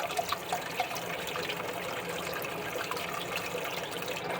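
Clean water running steadily through a freshly primed Marineland canister aquarium filter, a continuous soft trickling flow, fairly faint and alone.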